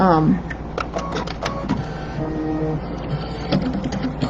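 A home embroidery machine stitches a small outline around an embroidered flower, giving a steady mechanical whirring and tapping under a voice that talks throughout.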